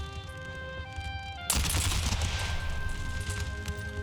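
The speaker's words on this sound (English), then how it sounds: "Long range volleys." Massed musket volleys in the Empire: Total War battle game, a sudden loud burst of rolling gunfire that continues as a dense, crackling wall of shots under steady battlefield ambience.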